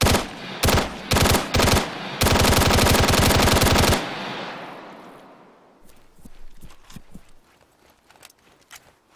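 Rapid automatic gunfire in a video game, shooting through a door: short bursts followed by a long sustained volley, loud and close, then fading into scattered clatter and debris.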